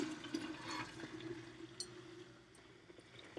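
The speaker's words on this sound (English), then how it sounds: "So you take your milk, and this is roughly a half gallon of milk" Milk, roughly half a gallon, poured through a funnel into a glass jar for homemade yogurt, a steady liquid trickle and gurgle running throughout at moderate, close volume.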